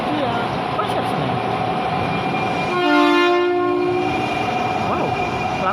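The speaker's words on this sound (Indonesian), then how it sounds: "Wow, klakson elektrik." A commuter electric train sounds its horn at Manggarai station, a sustained tonal blast of about one and a half seconds rising above steady station rumble and crowd murmur, fairly close.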